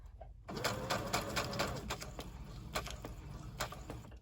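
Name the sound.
sewing machine stitching crepe paper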